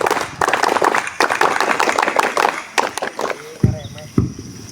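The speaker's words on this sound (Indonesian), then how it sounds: "Tepuk pramuka." A group at an Islamic boarding school scout camp in Indonesia performs a rhythmic scout clap, sounding as loud, fast patterned hand claps from many people that end in a couple of sharp, separate bursts.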